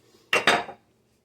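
Ceramic microwave-safe mugs, teaspoons and a cutting board handled on a kitchen counter, two sharp close clinks in quick succession that fade quickly into quiet.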